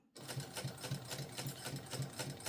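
A sewing machine stitches steadily and close by, its rapid mechanical chatter pulsing in an even rhythm with no voices.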